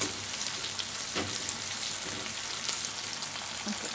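Green chillies frying in a pan give off a steady, dense sizzle throughout, with a few faint stirring taps underneath and no voices.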